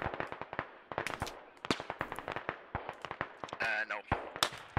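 Rapid bursts of gunfire from the military shooter Squad crackle throughout, dense irregular shots near and far, with voices talking over the firefight.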